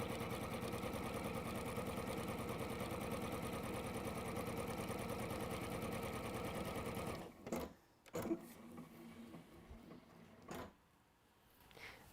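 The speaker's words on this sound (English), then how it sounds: "We are just going to sew from that point to that point." A sewing machine stitches a fabric seam with a steady, fast, close-up whir for about seven seconds, then stops, followed by a few soft clunks and handling sounds.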